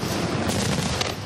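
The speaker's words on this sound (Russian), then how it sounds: "После – салют." Fireworks salute closing an outdoor pop concert in Kazan, Tatarstan: a dense, loud, continuous crackle of overlapping bursts with sharper pops standing out, and no voices.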